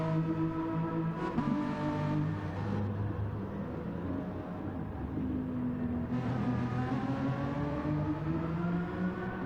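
Gr4 race cars circling Laguna Seca in Gran Turismo, their engines droning loudly and continuously with shifting pitch as they rev and lift through the corners.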